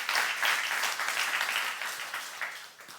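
Applause from a church youth congregation during a sermon, a dense, steady wash of many hands clapping together, fairly loud and sustained before easing off toward the end.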